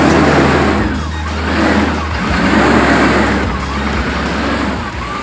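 A V8 car engine with a starting problem cranks and fires while the accelerator is held down, producing a loud, close, uneven revving roar that surges and dips in repeated waves.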